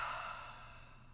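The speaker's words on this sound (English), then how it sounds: "Hold the breath at the top of the breath, and then exhale out the mouth." A slow, soft exhale out through the mouth during a guided EFT tapping breathing exercise, one quiet, steady breath fading gently over about a second.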